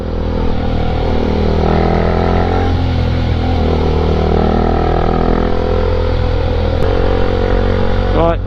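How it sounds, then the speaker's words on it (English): A motorcycle fitted with a new exhaust pipe runs steadily on the road near Dover Castle, its engine a loud, close, continuous drone with slight shifts in pitch and a brief clatter toward the end. "That's a good noise. I like that new exhaust pipe on this."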